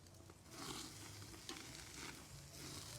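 Sirloin steaks sizzle on a charcoal grill as they are flipped, a steady close hiss with brief scraping bursts around each turn and no talking.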